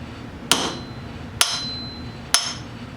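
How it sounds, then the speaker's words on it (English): Three crisp metallic taps from a metal hammer strike the iron of a wooden smoothing plane at an even, unhurried pace, each ringing briefly before fading, close and clear. "tap it with a metal hammer"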